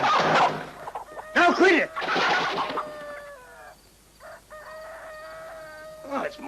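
A chicken clucks and a rooster crows loudly and close by at night in a 1973 film scene, in several bursts with a long drawn-out crow, while someone briefly speaks over them.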